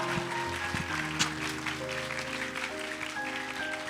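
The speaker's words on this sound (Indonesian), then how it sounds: "Tepuk tangan aja" A seminar audience claps steadily and loudly throughout, dense crowd applause at an indoor mindfulness festival talk, with a sustained hum underneath.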